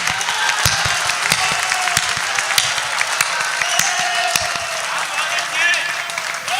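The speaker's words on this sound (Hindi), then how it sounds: "इतनी बढ़िया पंक्ति के लिए इतनी कम तालियां नहीं चलेगी।" Sustained audience applause at a religious recitation devoted to Mahakal, dense steady clapping from a crowd that runs the whole time with a few louder individual claps standing out.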